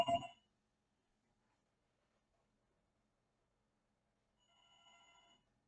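A telephone rings during a philosophy lecture, one short loud burst at the start, then a softer, longer ring after a silent pause.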